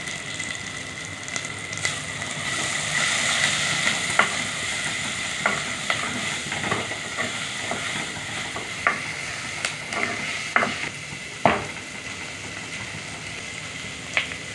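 Turmeric, chilli and coriander powders fry in oil in a pan for a bitter gourd and egg dish. A steady sizzle runs under repeated sharp scrapes and taps of a spoon stirring, and nobody speaks.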